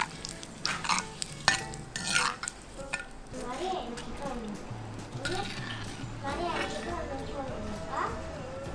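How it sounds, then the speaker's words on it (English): Green chilies and curry leaves frying in a pan as a garnish for prawn 65, with steady sizzling under scraping stirs and occasional clinks of a utensil against the pan. "You can also fry some green chilies and curry leaves to garnish."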